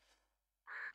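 Bird calls in the video game Tomb Raider 2, with a faint cry followed by a louder, harsh cawing call up close, and no talking.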